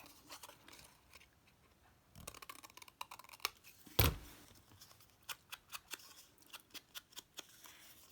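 Scissors snip through green paper being trimmed from a Christmas embellishment image, a run of quiet close snips, then a sharp loud cut followed by a steady series of crisp, evenly spaced clicks.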